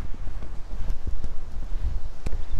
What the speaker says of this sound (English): It's very, very windy here right now.